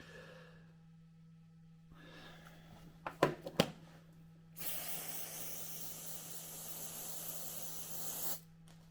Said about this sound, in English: I'll spray the activator on there and we just give that a minute.